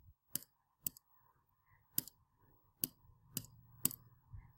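Calculator buttons are pressed in a sparse series of about six sharp, close clicks at uneven intervals, with near-silence between presses.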